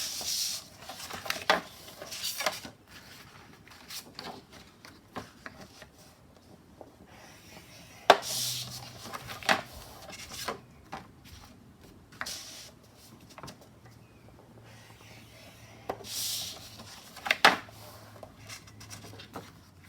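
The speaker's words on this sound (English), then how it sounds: "So scoring each of them at the 3-inch mark" Paper being scored at the 3-inch mark with a scoring tool while making a tabbed booklet from patterned craft papers, heard as scattered faint scrapes and light taps with occasional sharper clicks from handling, close and quiet with no talking.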